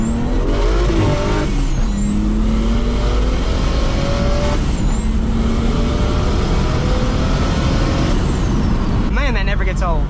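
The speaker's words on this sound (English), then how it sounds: "You know, you really just can't beat that DocRace sound when it comes to top mount kits." BMW N54 with a DocRace top-mount single turbo pulls hard through gears, loud exhaust roar with a rising turbo whistle repeatedly climbing and dropping at shifts, ending with blow-off chatter near the close.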